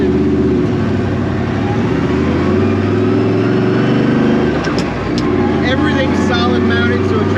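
A loud solid-mounted early Ford Mustang race car engine drones and revs up close for several seconds, its deep rumble steady with a brief surge partway through.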